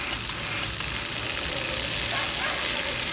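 An automatic household water pump runs steadily for a few seconds, a constant mid-loud motorized hum with a broad hiss, unchanging throughout.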